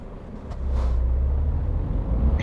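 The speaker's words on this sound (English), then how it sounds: "Truck engine seems a bit loud tonight" Steady low rumble of a truck engine in the Euro Truck Simulator 2 driving game, droning continuously and fairly loud throughout, with no talk over it.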